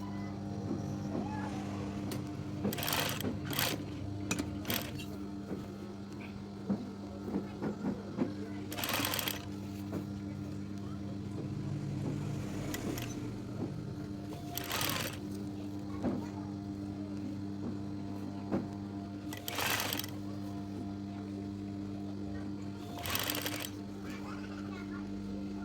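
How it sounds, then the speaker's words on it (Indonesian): Sewing machine stitching fabric in repeated bursts of a few seconds each, with pauses between runs and a steady hum beneath throughout; a person speaks quietly at times. "Sekarang kita jahit lagi, jahit seperti ini"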